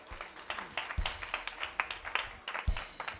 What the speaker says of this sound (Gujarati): સ્વામીને તાળીઓના નાદથી વધાવીએ